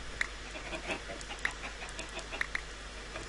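Minecraft chickens cluck in short, sparse bursts over a steady game background hum, each cluck brief and moderately loud with gaps between.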